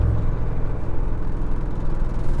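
Audi RS6 Performance wagon being rallied, its engine a steady low drone with a continuous mid-range whir, held at a constant level without obvious revving peaks.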